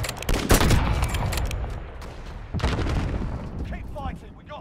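Gunfire in the video game Call of Duty: Modern Warfare, loud bursts of shots and booms at the start and again midway, with voices talking over the fighting.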